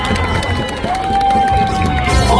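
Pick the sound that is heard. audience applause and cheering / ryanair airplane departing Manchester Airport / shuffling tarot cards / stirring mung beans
audience applause and cheering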